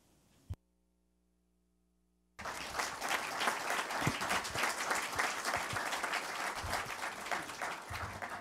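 A brief silence gives way to a sudden burst of loud, dense audience applause at a public event, sustained and even for several seconds without speech over it.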